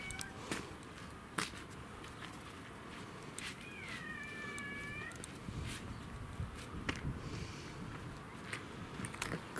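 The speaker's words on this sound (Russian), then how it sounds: "Вот кошки." A cat meows once, faint and in the middle distance, over steady outdoor background noise with scattered clicks and knocks on a property where a pipe is being removed.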